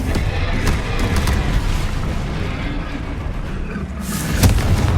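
Explosive Confringo spell blasts in the Hogwarts Legacy video game, a dense rumbling boom sustained throughout with a sharper burst near the end, loud and close amid combat noise.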